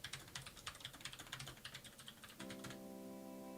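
Someone types a password on a computer keyboard: a quick run of close, crisp key clicks, then a steady electronic tone takes over near the end.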